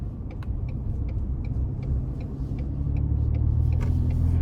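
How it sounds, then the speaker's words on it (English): A 2021 Ford Expedition Max XLT with a 3.5 engine cruises on the road, its steady low rumble of engine and tyre noise heard from inside the cabin and swelling slightly toward the end, with no talking. "time to go ahead and take this Expedition Max out on the road for a quick test drive"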